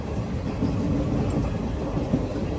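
The Silchar to Agartala Express runs through Assam with a steady low rumble and a faint clickety-clack of wheels, heard from inside the carriage. The sound is continuous and even, with no voices.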